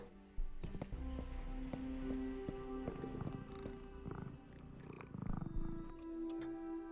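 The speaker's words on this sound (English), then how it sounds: "I love the sound of like purring cats." Cat purring in the Tales of the Neon Sea video game, a soft continuous rumbling purr under scattered game tones and chimes, fairly quiet and with no talking.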